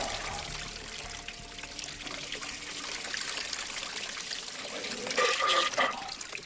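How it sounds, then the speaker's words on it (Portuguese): Water is pumped into an alligator's gut while its belly is pressed to flush out the stomach contents. The result is a steady, close gurgling trickle of liquid that grows louder and splashier near the end. "Eles bombeiam água para dentro do intestino, pressionando a barriga."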